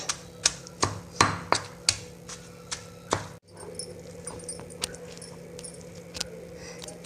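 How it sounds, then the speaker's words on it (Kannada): Chutney with plenty of garlic pounded in a stone mortar: sharp rhythmic thuds, about ten in quick succession, then a brief break followed by softer, scattered grinding knocks, close up. "ಅದಕ್ಕೋಸ್ಕರ ನಾನು ಒಳಕಲ್ಲಲ್ಲಿ ಕುಟ್ಬಿಟ್ಟು ತೋರಿಸ್ತಾ ಇದ್ದೀನಿ"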